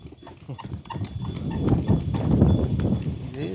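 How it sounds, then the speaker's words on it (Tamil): Horse hooves clip-clop steadily as a horse cart sets off from a horse farm near Kattumannarkoil, the rhythmic hoofbeats growing louder and denser over road noise, with no talk. "இப்போ நம்ம குதிரை ஸ்டேட்ல இருந்து கிளம்பி மூவ் பண்ணி போயிட்டு இருக்கோம்"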